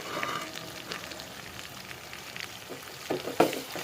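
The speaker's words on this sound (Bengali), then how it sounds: "এটাকে তেলের মধ্যে কষিয়ে নিব" Mixed spices frying in hot oil in a home kitchen pan, a soft steady sizzle with a few scraping stir strokes near the end.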